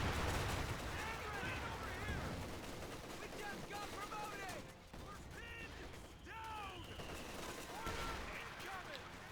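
Machine gun fire and other combat noise in the World War II strategy game Company of Heroes 2, with dense bursts of gunfire and explosions that go on throughout the clip under shouted unit voice lines.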